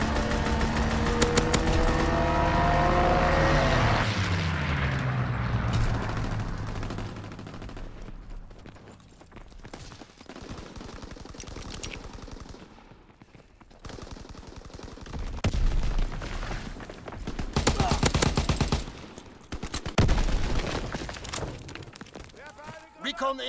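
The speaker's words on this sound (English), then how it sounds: "strafing the target" Strafing gunfire from a fighter plane in the Call of Duty WW2 video game, rapid bursts of automatic fire crackling over engine roar and a falling whine, loud and busy with game voices mixed in.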